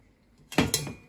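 A metal sieve and pot knock together with a sudden close clatter and a second clink as broth is strained, after near silence.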